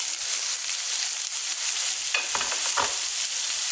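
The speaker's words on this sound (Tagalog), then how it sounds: "Haluin ko lang siya." Ground meat frying with garlic and onion for a bechamel dish, a continuous bright sizzle with a few spatula scrapes and stirring knocks near the end, close and steady.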